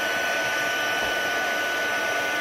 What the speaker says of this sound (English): heat tool once again, heat setting number 2